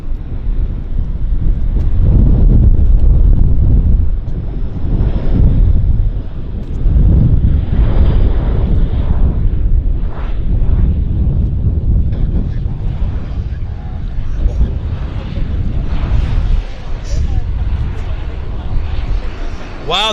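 An Air Canada airliner lands at Vancouver Airport amid gusty wind buffeting the microphone, a loud low rumbling engine roar that surges and eases in waves over the whole stretch, with voices faintly present.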